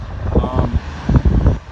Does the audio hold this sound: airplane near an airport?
yes